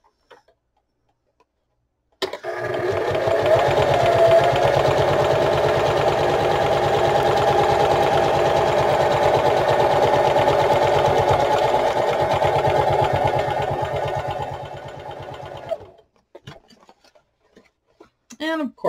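Up close, a sewing machine stitches mini pocket books in a steady, fast run of rhythmic ticking clatter for about thirteen seconds before stopping; quiet handling noises and a brief voice follow.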